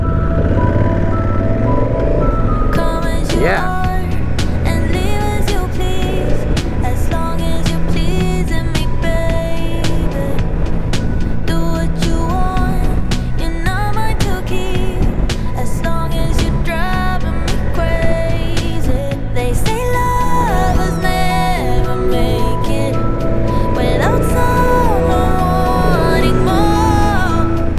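Music plays steadily through a budget EJEAS Q8 mesh motorcycle intercom, loud and continuous for nearly half a minute, with a brief spoken word near the start.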